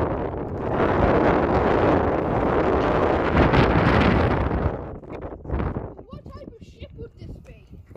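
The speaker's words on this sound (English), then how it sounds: "Still up. It's windy." Strong wind roars across the microphone on a beach near Whitby, loud and sustained for about five seconds before easing, after which voices talk with gusts still rustling underneath.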